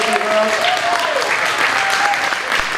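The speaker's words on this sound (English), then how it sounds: "let's give him a great big round of applause" A crowd at an elementary school morning assembly claps steadily and enthusiastically throughout, with brief voices and a few cheers mixed into the dense applause.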